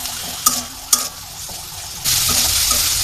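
Ground cumin paste fries in a pan for a grass carp curry. A few sharp spoon clanks against the pan come early, then the sizzle swells into a louder, steady hiss, all close up with no talking.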